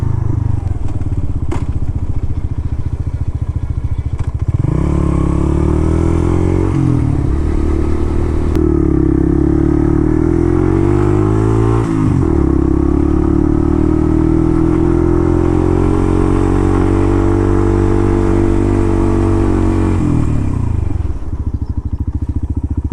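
A Suzuki RV125 VanVan motorcycle rides along roads in West Wales, its engine droning steadily up close. Throttle changes and shifts bring brief dips and surges, with continuous wind and road noise throughout.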